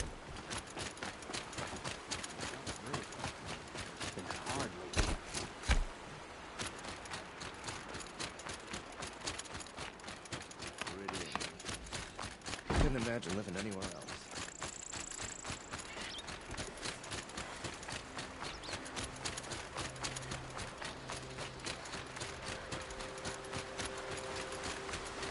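A horse running in the video game Horizon Zero Dawn, with rapid, rhythmic clip-clop hoofbeats that continue steadily throughout, mixed with other game sounds.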